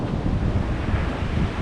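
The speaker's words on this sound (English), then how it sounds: "We are at the beach." Wind buffets the microphone at the beach, a dense, continuous rumble blending with the wash of waves, loud and close with no talk.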